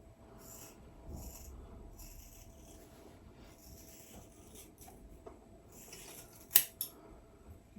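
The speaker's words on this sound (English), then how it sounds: "I'm going to cut Daryl's hair quite short." Scissors snip through hair during a short haircut, quiet, close and sporadic, with a couple of sharper, louder cuts near the end and no talking.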